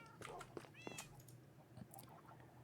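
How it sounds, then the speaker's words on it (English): Several cats meow at a streamer's home, a few short, faint calls scattered over a quiet room background with low hum and no speech. "All the cats are so loud."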